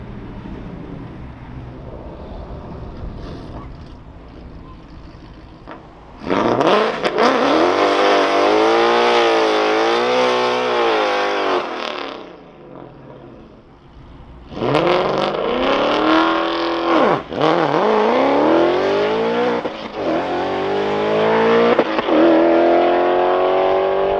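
Supercharged 2024 Mustang GT (833 hp Whipple, 6-speed manual) launching hard at a drag strip: loud engine roar climbing through the revs, a brief lull at a shift, then another long, rising wide-open pull.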